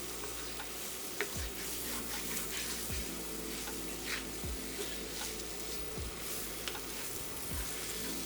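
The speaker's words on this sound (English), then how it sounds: "now we're just looking to get a bit more of a sear on it" Meat searing in a hot pan for chile verde burritos, a constant close crackling sizzle, with a few soft knocks from stirring.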